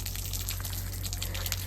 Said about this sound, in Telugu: బంతినారికి నీళ్ళు పడుతురు చూడండి